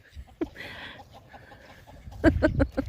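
Village chickens cluck as Volodya herds the poultry, with a few soft calls early and a brisk run of close clucks near the end.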